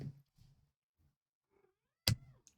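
A pet cat meowing indoors: a few soft, short mews spaced apart in near silence, then one louder, brighter meow toward the end, close to the listener.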